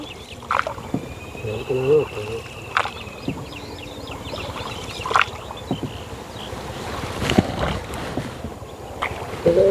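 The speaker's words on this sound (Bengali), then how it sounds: "আমাদের নৌকা বিহার চলছে এখন বিস্তীর্ণ কুন্তী নদীতে" A rowing boat glides on the broad Kunti river, with water lapping and intermittent oar strokes and knocks. Insect-like buzzing, distant calls and low voices sit in the background.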